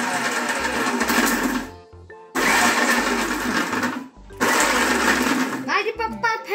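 A kitchen mixer grinder whirs loudly at home in three bursts of about two seconds each, separated by short pauses. Family members talk in the background.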